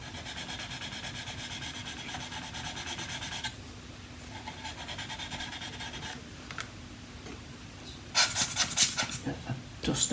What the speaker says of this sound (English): When you're sanding a large piece like that, it's important to try and keep your pressure equal